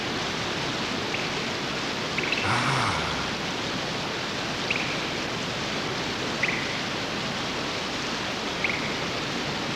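A waterfall roars as a broad, steady rush of falling water heard from close behind it, loud and continuous throughout, with a few faint brief sounds on top.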